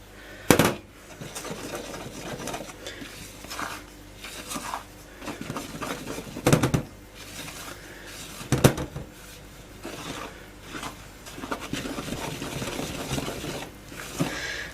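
Chocolate cake batter being stirred in a bowl, with steady scraping and swishing from the spoon broken by a few sharp knocks against the bowl's side, close and moderately quiet.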